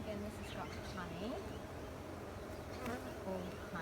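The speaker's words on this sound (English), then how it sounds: "A lot of bees too. A lot of bees." Honey bees buzz around an open hive during a split, a dense close swarm drone with individual insects whizzing past, while someone talks faintly underneath.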